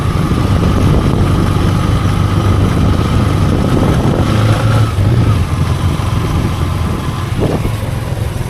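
A motorcycle bought for business use idles loudly and close, a steady low throbbing engine rumble that holds even for the whole stretch with only slight shifts in pitch, no speech.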